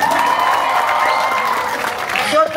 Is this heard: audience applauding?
yes